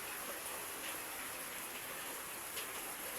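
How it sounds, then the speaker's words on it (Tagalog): Steady rain during a typhoon in the Philippines, an even, hissing downpour that is faint and continuous throughout, with no voices. "Pero may ulan na po siya ngayon."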